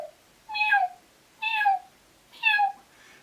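Kitten distress predator call imitating a kitten's short, high-pitched meows: three evenly spaced plaintive mews, clear and close against near silence.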